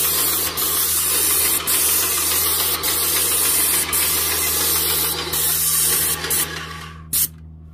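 Airless paint sprayer coating a stucco house wall, a loud steady hiss over a low motor hum, broken by a few brief pauses and stopping near the end.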